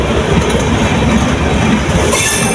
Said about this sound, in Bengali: এটা হচ্ছে পঞ্চগড় ঢাকাগামী ট্রেন, আন্তনগর এক্সপ্রেস।